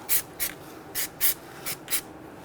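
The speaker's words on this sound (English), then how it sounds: "We're gonna go ahead and spray some anti-seize compound on our hub face." Six short, sharp hissing bursts of spray in quick pairs as anti-seize compound is sprayed onto the wheel hub face of a 2010-2019 Ford Taurus during wheel bearing and hub replacement, close and fairly quiet.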